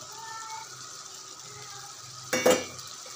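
Boiled mutton liver goes into a spice paste frying in oil: a quiet low simmer, then a short burst of sizzle and utensil clatter as the pieces hit the pan.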